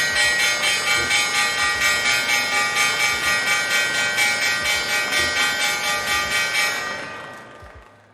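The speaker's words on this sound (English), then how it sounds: "So there we have the opening bell." Stock market opening bell ringing continuously with rapid, evenly spaced metallic strikes for about seven seconds, loud and bright, then fading out.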